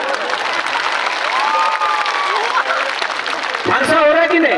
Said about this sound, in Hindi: आप लोग ताली मारो